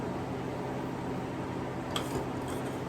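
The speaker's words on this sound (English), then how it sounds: "I'm going to now close the freeze dryer and hit continue." A freeze dryer runs after its door is shut with frozen leftover chili inside, giving a steady, even mechanical whir and hum throughout, with a brief faint click near the end.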